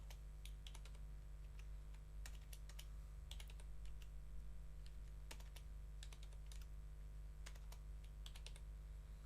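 Fingers type on a computer keyboard in faint, clustered bursts of light clicks with short pauses between them, over a steady low electrical hum and no speech.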